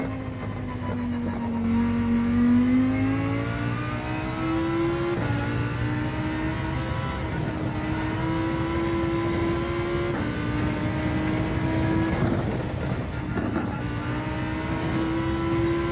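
Lamborghini Huracan engine in Gran Turismo 7 racing at Catalunya, a loud steady drone rising and shifting through gears with brief dips between pulls.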